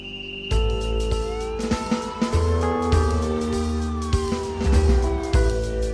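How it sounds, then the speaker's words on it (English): A siren wails continuously over loud road noise, its pitch sweeping up and down while traffic rumbles close by. "he hears sirens screaming behind him"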